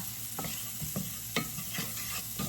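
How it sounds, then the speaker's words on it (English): Vegetables fry in butter in a pan, a steady close sizzle broken by repeated soft scraping stirs at an even pace, with no talking. "I'm just gonna do a little bit more butter because this pan is getting a little dry"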